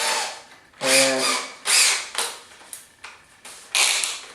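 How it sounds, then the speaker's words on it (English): Power drill boring a lock hole in a door, several loud bursts of drilling that rise and fall, separated by short pauses. "I'm going to go ahead and start drilling right now."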